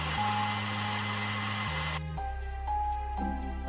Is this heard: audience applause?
no